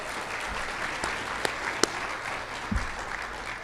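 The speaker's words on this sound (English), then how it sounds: "I'm going to clap over here because otherwise I'm going to do it right in the mic" Applause at a research forum session of a convention, a continuous wash of many hands clapping at moderate distance, with a few sharper nearby claps standing out and a brief low thump near the end.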